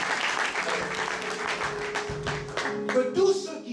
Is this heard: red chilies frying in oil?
no